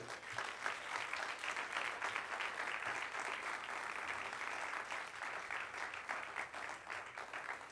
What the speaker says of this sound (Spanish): Dale fuerte el aplauso al rey.